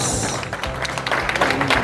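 Audience applause for the groom at a mass wedding ceremony, a brief burst of clapping from the gathered guests rising under a hum of crowd noise and low voices.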